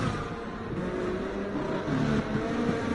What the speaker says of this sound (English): we've got a McLaren coming round